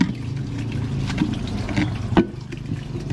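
Water is poured out of a car radiator spare tank after rinsing, making a steady splashing gurgle with a few louder sloshes, heard close by without speech.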